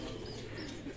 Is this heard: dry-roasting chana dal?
no